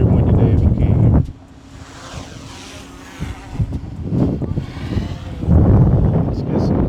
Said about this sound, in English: It's a very windy day if you can't hear me.